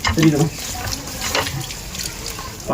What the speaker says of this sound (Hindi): नल पानी दे रहा है, देखते हैं गाइस, नल पानी दे रहा है।